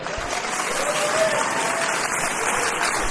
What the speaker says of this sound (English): Can everybody give Ms. Greene a round of applause?